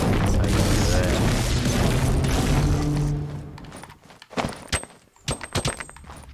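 Fortnite Battle Royale grenade blast: a loud, sustained roaring burst of explosion noise fills the first three seconds, then gives way to scattered impacts, clacks and sharp game effects at moderate volume.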